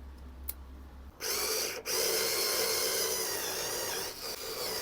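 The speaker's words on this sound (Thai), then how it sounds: "เดี๋ยวจะใช้ดอกสว่านตัวนี้นะครับ เจาะ นำเข้าไปก่อนนะครับ" A cordless drill whirs into wood, drilling a pilot hole for a screw, starting after a brief quiet moment, running steadily with a short pause, loud and close.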